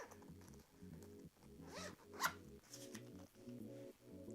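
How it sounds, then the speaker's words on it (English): Zipper on a Pokémon card binder being pulled open, a quick zip sound amid faint background music and a soft sharp click near the middle. "It has a zipper."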